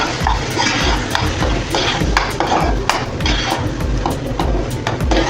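Sweet pumpkin filling with cardamom is stirred in a pan, giving rapid, repeated scraping and knocking of a spoon against the pan in a busy, continuous rhythm, close and fairly loud.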